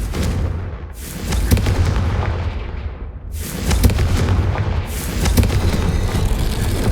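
Confringo blasting spells exploding in the video game Hogwarts Legacy, a string of loud, booming blasts over continuous low rumble, with a sharp burst near the start and heavy impacts returning around the middle and late in the clip.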